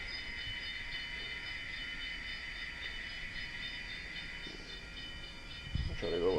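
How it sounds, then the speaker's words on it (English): A small model train whirs steadily with a faint mechanical rattle as it backs up in reverse, and a brief louder bump and clatter comes near the end. "I can back the train up now."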